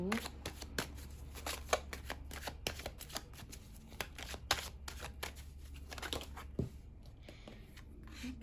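Tarot cards shuffled by hand at close range, a continuous run of soft riffling slaps and brisk card flicks with an irregular rhythm over several seconds, with faint talk underneath.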